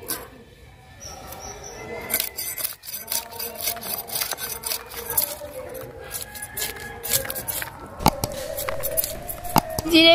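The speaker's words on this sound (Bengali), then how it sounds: "জিরে বেটে নেব" Cumin seeds are ground by hand on a stone in a home kitchen while preparing steamed hilsa fish, giving irregular close scraping and rubbing strokes with scattered clicks and knocks throughout.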